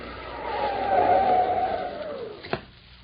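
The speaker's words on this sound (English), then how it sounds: "had to slam on his brakes so that he wouldn't run over him" Car braking hard and skidding on a snowy road, a long loud tire squeal rising and sliding for about two seconds before ending in a sharp thud.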